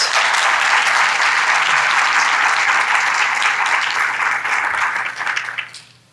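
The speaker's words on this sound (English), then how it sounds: "I'd like to get a big round of applause for all of our presenters" An audience at a community housing event claps for the presenters in a long, loud, even round of applause that tapers off and fades out near the end.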